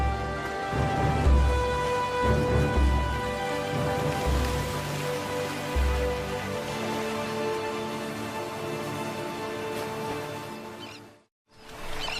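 Heavy monsoon rain falls steadily along a Sri Lankan coast, a dense, continuous hiss at even loudness with low rumbling surges early on, then a brief drop to near silence just before the end.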